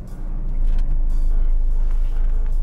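A car's engine rumbles low and steady at close range as the car pulls over and comes to a stop on a quiet, empty roadside near a highway, with no voices over it.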